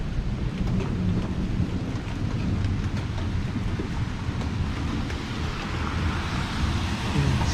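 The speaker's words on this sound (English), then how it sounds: "And it's just now starting to rain big drops." Steady thunderstorm downpour on an evening roadside in Southeast Michigan, broadband rain roar with wind buffeting the microphone and low rumbling thunder beneath, continuous and loud with occasional heavier drops striking gutters.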